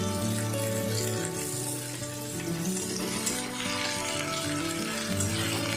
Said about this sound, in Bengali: পেঁয়াজটা গোল্ডেন ব্রাউন করে ভেজে নেব।